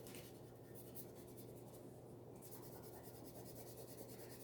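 Pencil eraser rubbed in soft, quick strokes across fragile watercolor paper, a steady close scratchy rubbing that continues throughout over a constant low hum.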